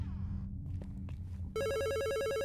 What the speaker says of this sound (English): Oh, the phone in the office is ringing.